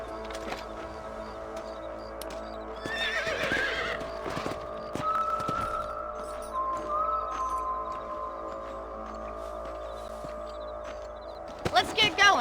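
Horse hooves clip-clop steadily in Red Dead Redemption, with whinnies and ambient game sounds mixed in; the clatter grows louder near the end.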